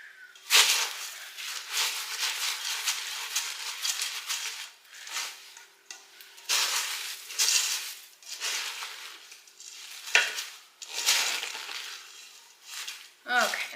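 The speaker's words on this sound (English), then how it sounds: "6 cups of Rice Crisp cereal. I'm gonna stir that in. This is why I use a big pan," Rice crisp cereal being stirred into a big pan of melted mixture, a series of broad scraping, rustling strokes in bursts with short pauses, close and moderately loud.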